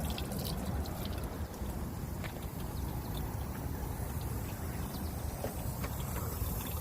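Water gushing steadily through the cooling system of a 2005 Buick LaCrosse as it is flushed during a water pump replacement, a continuous loud rushing pour with no talking.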